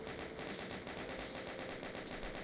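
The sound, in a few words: video game sound effect like rapidly loading shotguns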